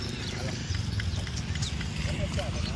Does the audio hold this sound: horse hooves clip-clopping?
yes